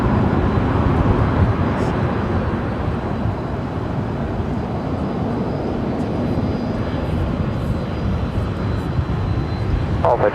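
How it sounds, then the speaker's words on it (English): American Airlines jet in retro PSA livery arriving at Dallas–Fort Worth from Durango, a loud, continuous engine roar close by that holds steady throughout with a faint whine near the end. "American Airlines in the retro PSA livery. Flight 1314 coming in from Durango."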